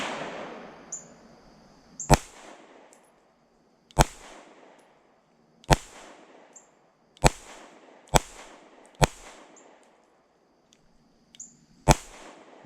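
Seven sharp pistol shots from a Fusion Firearms XF Pro firing 115 grain Winchester white box rounds ring out one by one at irregular intervals, each loud crack trailing into a short decay, with no talking.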